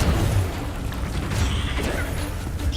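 A fire spell cast in the Hogwarts Legacy video game, heard as a dense, sustained burst of crackling game effects with low booms and whooshing flares over nearly three seconds.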